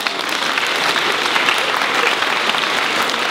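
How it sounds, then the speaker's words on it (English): Loud, sustained applause from a school audience after candles are blown out at a school birthday celebration, dense clapping holding steady throughout. "round of applause"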